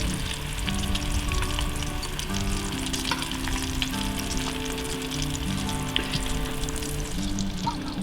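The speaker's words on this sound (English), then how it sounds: "Just let them fry for a while." Vegetable oil sizzling and crackling steadily as food fries, with occasional stirring sounds, close up and unbroken by speech.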